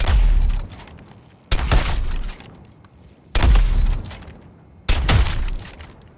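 Gunfire in the video game Suicide Squad Kill the Justice League comes in four loud, separate bursts. Each one hits sharply and then fades into a decaying rumble before the next.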